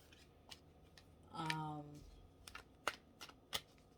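Tarot cards being shuffled by hand, a riffle-like flutter near the middle followed by several sharp taps and flicks of the deck, close and fairly quiet with no talking.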